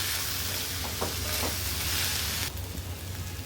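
Bottle gourd with turmeric and asafoetida sautéing in a pan for a chutney, a steady dense sizzle heard up close with faint stirring scrapes, then the hiss drops in level partway through.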